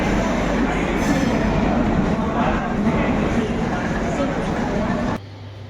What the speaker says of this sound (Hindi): और इस वक्त हम महाकाल एक्सप्रेस में सवार हो गए हैं उज्जैन जाने के लिए